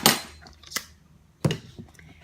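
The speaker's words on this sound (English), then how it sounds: "I'm going to stir it around and let it sit." A metal spoon clinks against a coffee plunger while stirring ground coffee in hot water, a few distinct sharp taps separated by short quiet gaps, close and fairly soft.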